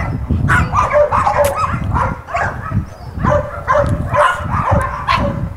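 A small shelter dog at an animal control facility barks and yips in quick repeated bursts, close and loud, continuing throughout.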